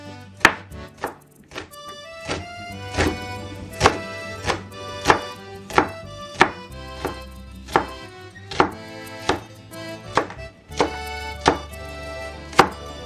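A knife slices onions thin on a cutting board, about a dozen crisp, evenly spaced chops at a steady rhythm, close and distinct, with no talking.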